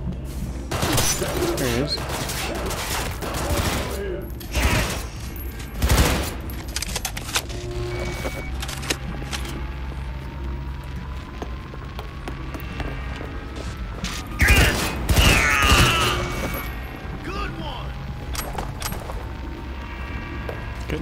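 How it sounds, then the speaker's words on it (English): Game gunfire in Cyberpunk 2077, scattered bursts and booms over a continuous mechanical drone, with louder volleys around the middle and later, while a player talks intermittently. "What the hell is shooting at us?"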